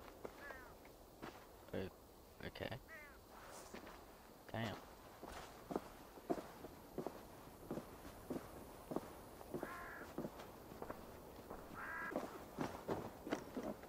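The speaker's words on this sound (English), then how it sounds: "Crow." Crow caws from a Viking-era video game set at the siege of Paris, several harsh calls among footsteps, with people briefly speaking over the scene.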